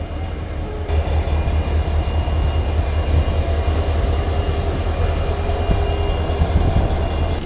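An Indian Railways Veraval–Ahmedabad Intercity Express with old ICF AC chair car coaches pulls out of Jetalsar Junction, giving a steady, loud low rumble of rolling stock heard from inside a carriage with no talk.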